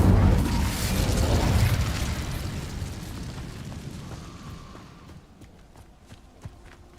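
An Incendio fire spell cast in the Hogwarts Legacy video game, a loud booming burst of flame that rumbles and slowly dies away, leaving faint crackles and small effects behind.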